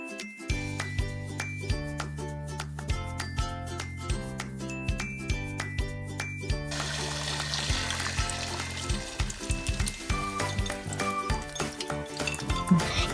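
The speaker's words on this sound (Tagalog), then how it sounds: "ibutang sa init nga kalaha nga adunay mantika" Beaten egg sizzles in hot oil in a pan, a steady hiss rising about halfway through and continuing under loud rhythmic music.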